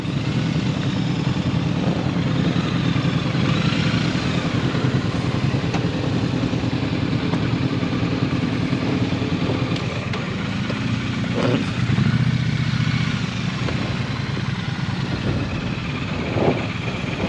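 Several motorcycles idle together in Ireland, a steady low engine rumble running the whole time, with light clatter and a brief rise in revs near the end.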